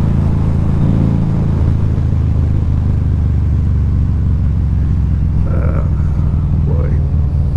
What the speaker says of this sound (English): 2012 Harley Davidson V-Rod. What a really good bike.